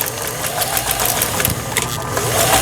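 A Toyota 430 home sewing machine runs a zigzag stitch, giving a fast, even mechanical whir and clatter with rapid needle beats throughout, close up.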